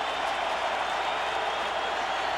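Crowd at a Yankees at Twins baseball playoff game filling the stadium with a steady, dense wash of cheering and clapping, loud and continuous for a few seconds.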